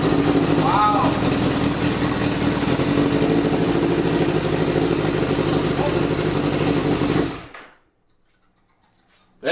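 A turbocharged Suzuki Hayabusa engine fitted in a Yamaha Raptor 700 quad idles loudly and steadily up close, then cuts off abruptly, leaving near silence.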